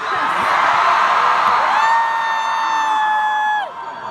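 A large metal concert crowd in Katowice screams and cheers loudly and continuously, with a sustained whooping roar and a rising collective yell that holds for a couple of seconds before dropping off near the end.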